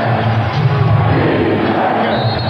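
Loud, sustained roar of the home crowd cheering on the Chicago Bulls during Game 6 of the 1996 NBA Finals, a dense wall of voices that holds steady throughout.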